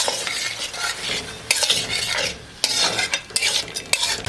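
A 100-gram pat of Nurpur butter being stirred into mutton karahi in a Lahori-style recipe: loud, close hissing sizzle with bursts of scraping as the spoon works through the pot, rising and falling in waves, no voices.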